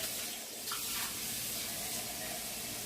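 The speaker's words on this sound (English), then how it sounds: "let me put a little bit more water in it because we want it to cover" Tap water runs and splashes into a small pot of string beans on a stovetop, a steady close hiss with a brief louder gush near the start, alone without talk.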